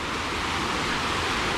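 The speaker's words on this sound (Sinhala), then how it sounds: "දිය ඇල්ල වගේ තියෙන ලස්සනට වැටෙනවා අර හරිය එක" Water tumbles over a small cascade of stacked stones in a stream on a piece of land, a close, loud, steady rushing wash with no pauses or voices.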